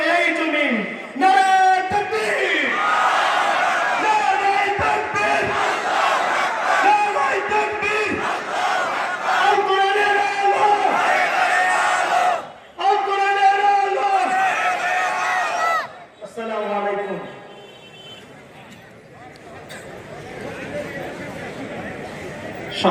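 A large crowd at an outdoor Jamaat-e-Islami rally in Tangail's municipal park roars takbir slogans in loud, repeated group bursts, with rhythmic surges and brief gaps, and the shouting fades toward the end.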